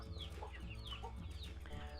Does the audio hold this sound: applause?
no